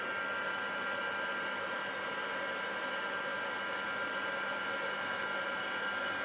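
A heat tool blows a steady, loud, hissing stream of hot air, melting embossing powder on a handmade card; the noise holds constant and close throughout with no pauses.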